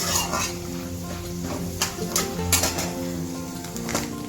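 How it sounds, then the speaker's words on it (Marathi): Grated coconut is dry-roasted and stirred in a pan for a traditional Bhogi vegetable dish, giving a continuous scraping rustle with occasional spoon clinks against the metal, close and steady. "खोबरं चांगलं असं भाजून घ्यायचं लालसर"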